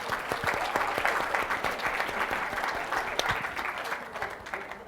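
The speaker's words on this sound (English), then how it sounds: "Can we clap it up for the Abe Lincolns?" Audience clapping at an annual Martin Luther King Jr. tribute celebration at Northeastern, a brisk, continuous burst of many hands that stays fairly loud throughout.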